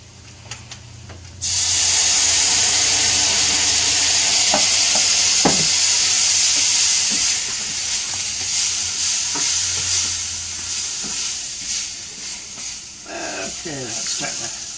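A pan of beef stroganoff hisses and sizzles loudly as stock is poured in, with a spoon stirring and scraping against the pan, the steam and sizzle gradually settling toward the end.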